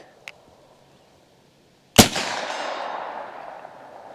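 A single sharp gunshot from a 9mm carbine fitted with a muzzle brake, loud and close, with a long decaying echo rolling away after it, preceded by a faint small click.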